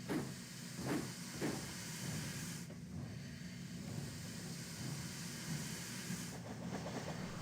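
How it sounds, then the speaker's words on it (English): Steam locomotive puffing away, with rhythmic chuffs and steady hissing steam over a continuous rumble of train wagons at moderate distance, no voices. "With that, Gordon puffed away."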